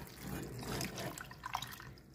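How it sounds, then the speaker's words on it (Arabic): Water poured from a container into a large cup for a homemade chicken feed mixture, a steady close splashing trickle ending in a few drips, with no talking. "هنحط ملو كوبايه كبيره كده من بتاعه الميه اهي، ملو كوبايه كده"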